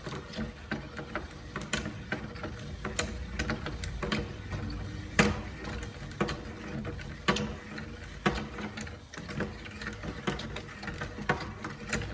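A hand ratchet working a nut loose during a rear drum brake job on a 1996 Chevy Cavalier, a long run of rapid clicking pawl strokes in uneven bursts with a few louder knocks, close up and with no talking.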